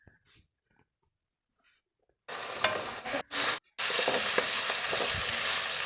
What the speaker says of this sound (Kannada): ಸ್ವಲ್ಪ ಹೈ ಫ್ಲೇಮಲ್ಲಿ ಇಟ್ಟರು ಕೂಡ ಈ ಥರ ಆಡಿಸ್ತಾನೆ ಇರಬೇಕು